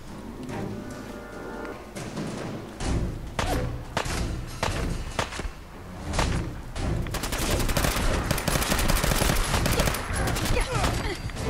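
Enemy gunfire in the Fallout 4 video game: sharp bursts of shots and rapid automatic fire with heavy thuds, growing denser and louder toward the end, with a voice exclaiming briefly.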